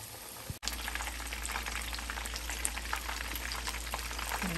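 Chicken wings frying in a pan, a dense, even, close sizzle and crackle that breaks off for an instant near the start and then continues steadily, with no voices.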